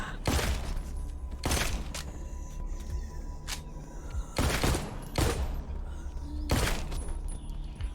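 Gunfire in The Walking Dead: Onslaught, a video game, rings out as sharp, loud shots in irregular bursts roughly a second apart, each with a brief reverberant tail over a low background hum.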